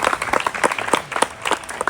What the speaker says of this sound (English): give a round of applause to everyone